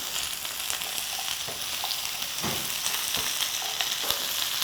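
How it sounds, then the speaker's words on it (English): Cauliflower, carrot, red pepper and small onions stir-fry in a pan with a dense, even sizzle and occasional soft scrapes of stirring, close and steady with no speech. "We will put all the vegetables. Cauliflower, carrot, red pepper, small onions."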